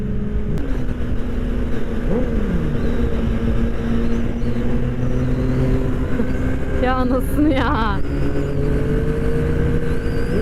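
A Yamaha MT-09 motorcycle's exhaust drones steadily, then revs in sharp rising bursts later on. Someone talks excitedly over the engine throughout.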